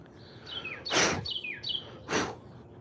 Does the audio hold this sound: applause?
no